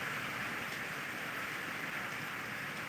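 Steady heavy rain pours in Khultabad, a continuous broadband patter of drops on surfaces, uniform and unbroken over a few seconds with no voices.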